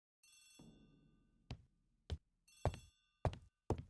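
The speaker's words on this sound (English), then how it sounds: "The telephone in the hall is ringing." A telephone rings in a hall in The ABC Murders video game, with bright ringing bursts followed by a run of sharp thunks and knocks, heard alone.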